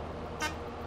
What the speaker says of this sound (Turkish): Lan benim kornam niye bip bip diye çalıyor?